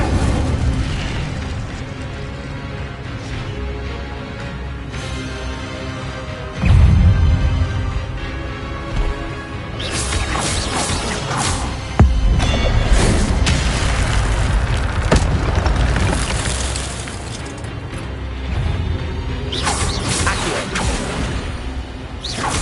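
Spell-casting blasts in Hogwarts Legacy: booming bursts and whooshes from combat magic such as fire and levitation spells, loud and repeated over a game music bed.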